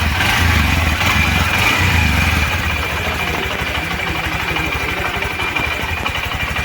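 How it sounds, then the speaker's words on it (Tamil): Motorcycle engine idling steadily with a low, pulsing exhaust beat, loud and close throughout, with no talking over it. "இன்ஜின் சவுண்டு, எக்ஸாஸ்ட் பீட் ரெண்டுமே கேட்டுட்டு வாங்க"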